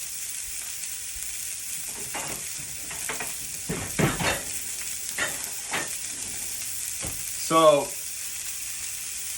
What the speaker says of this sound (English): Let me grab a spatula.